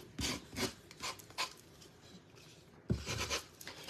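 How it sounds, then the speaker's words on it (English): Sanding a wooden ragdoll craft piece by hand, close rasping strokes in a quick back-and-forth rhythm, pausing briefly before another burst of scraping. "I'm just gonna sand this part where I've kind of overlapped"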